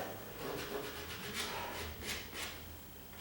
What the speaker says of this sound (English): Now I can take my rasp and kind of hit that